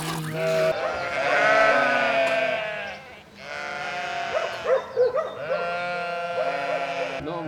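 Ewes in Hășdate bleat loudly and repeatedly during sheep milking, several close, overlapping voices calling in long wavering cries with short gaps between them.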